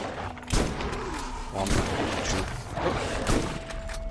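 Shotgun blasts in the Borderlands video game, several loud booming shots spaced about a second apart over busy game ambience, with a voice briefly counting.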